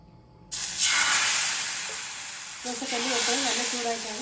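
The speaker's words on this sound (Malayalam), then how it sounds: "ഇതിലേക്ക് ദോശ ഒന്ന് ഒഴിച്ചു കൊടുക്കാം." Dosa batter poured onto a hot dosa griddle bursts into a loud, close hissing sizzle that swells and slowly eases, then flares again as a faint voice-like tone sounds underneath.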